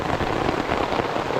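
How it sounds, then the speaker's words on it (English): Heavy rain pours steadily on a campsite near a river, a dense, constant hiss of drops drumming on surfaces up close, with no voices. "it's raining cats and horseshoes out here right now"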